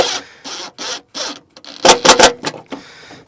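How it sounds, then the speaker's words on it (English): Metal self-tapping screws are driven to fasten a box in a 2019 Thor motorcoach, heard as a series of short close grinding bursts separated by pauses, the last few louder and more rapid, with no speech. "I'm just using some metal self-tapping screws to attach this box."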